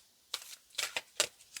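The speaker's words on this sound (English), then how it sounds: "I'm going to shuffle a little bit here." A deck of tarot cards is shuffled in several quick riffling bursts, crisp and close, with brief pauses between each pass and no talking.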